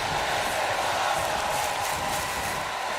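A steady, dense crowd roar fills a WWE 2K20 wrestling video game match in a WCW Nitro setting. The arena noise holds constant and loud throughout with no clear breaks.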